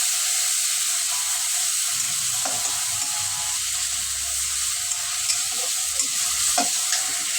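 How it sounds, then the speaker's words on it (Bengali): Sliced onion frying in oil at the start of a hilsa curry with ridge gourd gives a steady, close hiss-and-crackle sizzle, with a few faint scrapes and taps mixed in and no voices. "তো আমি অল্প করে একটু পেঁয়াজ দিয়ে দিব"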